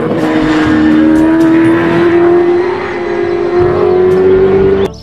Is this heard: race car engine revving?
yes